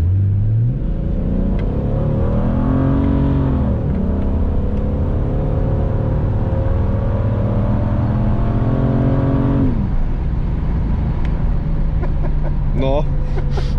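A Toyota Supra Turbo III engine drones loud and close from inside the car, rising in pitch through the gears with brief dips at shifts as the turbo builds, speech faintly audible underneath.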